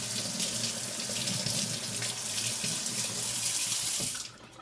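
Tap water runs steadily from a kitchen faucet as bay leaves are rinsed while preparing chicken in a pot, a close, continuous splashing rush that stops abruptly near the end.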